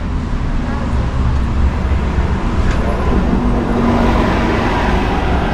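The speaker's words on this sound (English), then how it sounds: "The Coronado bus." Coronado's free summer shuttle bus rolling past on a street on Coronado Island, San Diego, a loud continuous engine and road rumble that swells slightly toward the end, with people talking.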